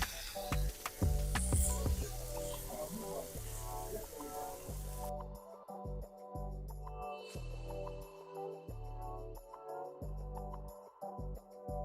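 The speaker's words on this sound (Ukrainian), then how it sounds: "будемо їх тепер смажити на нашій решітці" Steady hiss of pork knuckles sizzling on a hot grill grate, fairly close, with scattered clinks and thumps and no talking.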